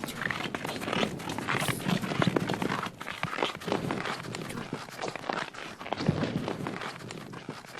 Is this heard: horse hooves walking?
yes